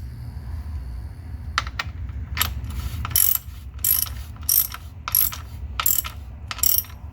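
A ratchet tightens the transmission fill plug on a BMW Z3 with short bursts of rapid clicking, about seven quick ratcheting runs close up in a quiet garage.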